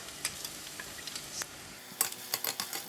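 Red onions hitting hot oil in a very hot clay pot, a close, soft crackling sizzle with small irregular pops and light scraping, getting busier toward the end.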